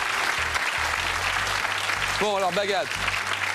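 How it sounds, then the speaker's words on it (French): A quiz show studio audience claps continuously, a dense, fairly loud applause bed, while someone speaks briefly over it. "Applaudissements pour Victor, qui a passé une semaine avec nous à Paris"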